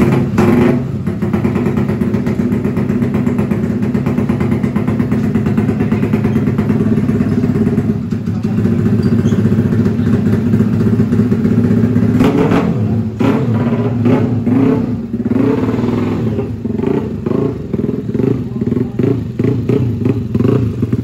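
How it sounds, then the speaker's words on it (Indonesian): A motorcycle engine runs loud and close throughout a tuning test, holding a steady rough idle with mechanical clatter before a series of throttle blips and revs in the second half. No voices are heard. "Cobain motor yang ini koyer guys."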